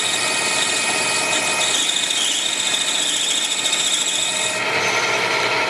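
A metal lathe cuts 3 millimeters off a workpiece with a continuous close, loud grinding and scraping hiss that shifts tone near the end, with no talking.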